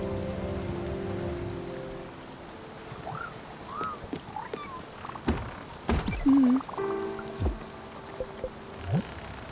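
A soft, steady wash of rain falls throughout in the video game Spiritfarer, with scattered thuds, chirps and small sound effects cutting in near the end.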